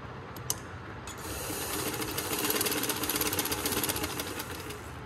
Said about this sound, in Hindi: अब इधर से मैं सिलाई लगा लूँगी।